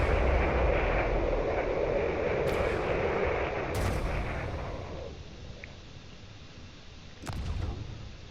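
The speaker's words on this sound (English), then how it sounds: "all the other ships that are firing missiles in its general direction" Ships in the Drone Wars video game launch missiles, a heavy rumbling roar of fire and blasts that gradually fades, broken by a few sharp cracks and a louder burst near the end, with no voices.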